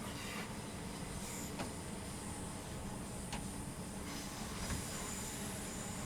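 A simulated train on the Medway Valley Line arrives at Paddock Wood in Train Sim World 6, with a steady rolling rumble, faint rail clicks and occasional squeal as it brakes.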